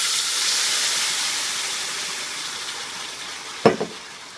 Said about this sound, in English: before anything burns, I'm just going to quickly put in the tomatoes.